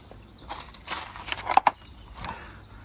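A socket wrench works on the exhaust spring nuts of an Aprilia RS125, giving close, irregular metallic clicks and scraping knocks, with a couple of sharper ticks midway and soft handling noise between.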